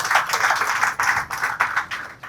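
An audience claps loudly for Adarsh Solanki at the Arunodaya Influencer Awards 2026, a dense, steady burst of hand claps that swells in uneven waves, close and continuous with no talking.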